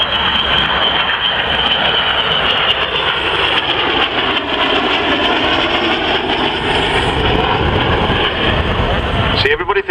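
A 1960s nuclear bomber jet flying past at an air show at Cosford, a loud, steady engine roar filling the whole stretch with a broad rumbling whine, with a commentator's voice faintly underneath.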